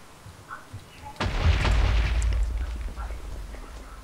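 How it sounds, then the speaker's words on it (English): A grenade goes off in a video game with a sudden, deep, rumbling boom after a quiet stretch, then a long decaying roar and a smaller thud near the end. "Just throw a couple of grenades down there."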